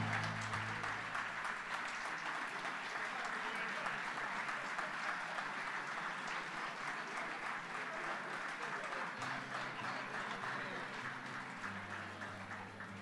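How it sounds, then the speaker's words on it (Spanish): A crowd at a ceremony honoring veterans and the fallen claps continuously as commemorative coins are handed out, a dense, even applause heard from a distance with a low hum underneath. "Reiteramos el aplauso para cada una de las entregas."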